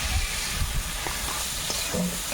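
A fish head fries in hot oil in a large home-cooking pot, giving a steady close sizzle and crackle with a few small pops and stirring noises.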